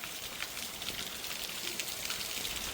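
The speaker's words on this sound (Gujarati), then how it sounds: "અરે વરસાદ ચાલુ હોય જબ્બર વરસાદ ચાલુ છે" Heavy monsoon rain pours down steadily outside a home, a dense, even hiss of drops landing on surfaces with no break and no one talking.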